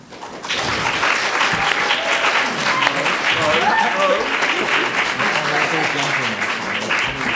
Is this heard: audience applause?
yes